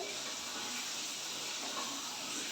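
Eggs dropped into hot oil in a pan for an egg curry with potatoes, giving a steady, dense sizzle that hisses evenly throughout with no talking.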